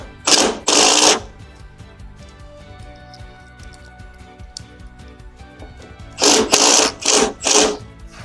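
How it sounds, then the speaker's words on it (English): A screw is driven with a number 3 Phillips bit while assembling a tall double-hang rack. There are two loud whirring bursts, one brief near the start and a longer, pulsing run near the end, with a quiet pause between them. "you're going to take your number 3 Phillips bit. And you just put it in there and it tightens up."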